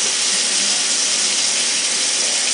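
Liquid pours steadily into a container for a homemade cloth diaper wipes solution, a constant close splashing hiss with no voices.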